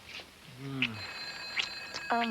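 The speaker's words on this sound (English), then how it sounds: "The phone, James." A telephone rings indoors in a television drama scene, giving short bursts of bell-like ringing. Voices talk over and between the rings.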